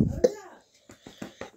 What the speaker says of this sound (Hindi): खांसी आ रही है इसको, खांसी।